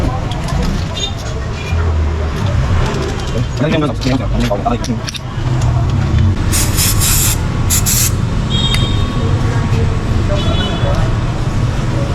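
Spray is applied to motorcycle front shock parts on a Yamaha Aerox V2 during suspension tuning, a steady loud hiss running through most of the stretch with a brief pause, and workshop noise around it.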